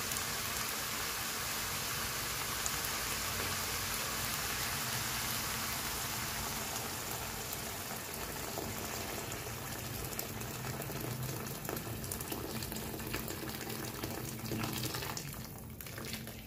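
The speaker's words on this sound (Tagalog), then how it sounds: "Pwede na natin lagyan sapat tubig para sa ating sabaw." Water poured into a pot to make broth for chicken sotanghon soup with mung bean sprouts gives a steady, even rushing splash that runs continuously and eases off just before it ends.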